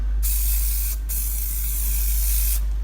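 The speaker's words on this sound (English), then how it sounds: "All you do with this stuff is you literally spray it on." Close, loud hissing sprays from an aerosol can in three bursts, with short pauses between them.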